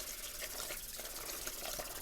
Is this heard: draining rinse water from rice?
yes